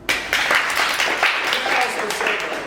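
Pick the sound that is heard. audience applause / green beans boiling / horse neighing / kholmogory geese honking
audience applause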